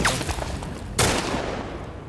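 Gunfire in The Last of Us Part I on realistic difficulty: loud, dense bursts of shots crackle close by, with a sharp fresh volley about a second in, over constant game noise.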